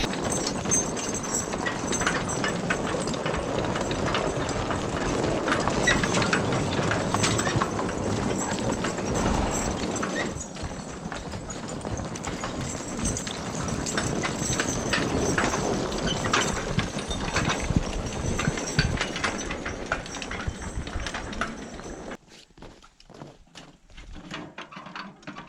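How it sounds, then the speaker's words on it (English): Logging horses walk through the woods with a steady clip-clop of hooves, close and continuous, with rustling and creaking beneath. The sound thins out near the end, and no one speaks. "The horses are ready to get to work, so let's get to work."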